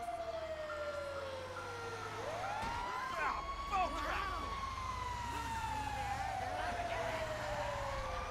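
A video-game ambulance siren wails steadily in Los Angeles, its pitch sweeping slowly up and down, with a vehicle engine droning underneath and brief muffled thuds midway.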